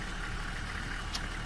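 A bus engine in the video game Tourist Bus Simulator gives a steady low idling drone with a brief higher hiss near the end, close and unbroken for about a second and a half.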